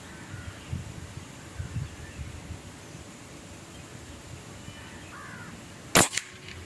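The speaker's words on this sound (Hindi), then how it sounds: "तो मैं जो है वो फर्स्ट शॉट लेता हूँ।" A PCP airgun, an M22 rifle, fires a single sharp shot with a brief tail, loud against an otherwise quiet outdoor background with faint bird calls.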